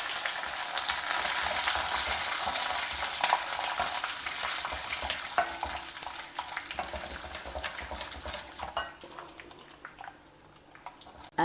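Groundnuts and curry leaves frying in hot oil, tempering for tamarind rice. A loud, dense sizzle gives way to crackling pops and spatters as the frying calms, heard up close with no talking.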